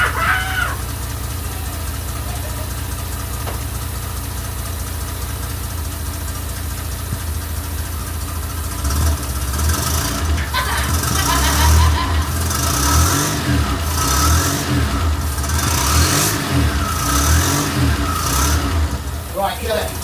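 A turbocharged DeLorean's engine runs steadily, then about halfway through breaks into repeated loud revs with rising and falling surges, close to the microphone, with voices talking over it.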